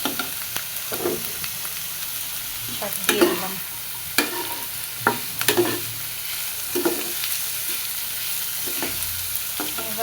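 Ash gourd and potato fry in oil left over from frying hilsa fish. A soft sizzle runs underneath while a spoon scrapes and stirs in irregular bursts, and one short spoken phrase comes partway through.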